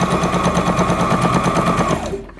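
A Brother GS1700 sewing machine runs a blind stitch in a fast, steady mechanical rattle of rapid needle strokes. It is loud and close, then slows and stops near the end.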